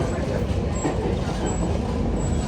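Steady dense rumble inside an air-conditioned metro train in Kochi, India, a constant close hum of motion and ventilation without clear voices.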